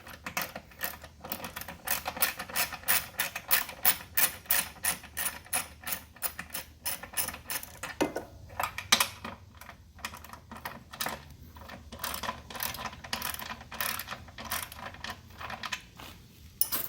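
Ratchet with a 3/8 inch socket backing out two bolts from the guide plate of a Toro Timemaster lawn mower, a fast run of close, crisp clicks that continues steadily in short bursts, no talking.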